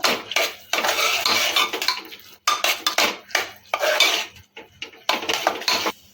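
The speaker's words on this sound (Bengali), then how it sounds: "আবার একটুখানি নেড়ে চেড়ে নেব" A spoon stirs rasam rice in a pot, scraping and clinking loudly against the metal in repeated rhythmic bursts with short pauses between them, close up and with no talking.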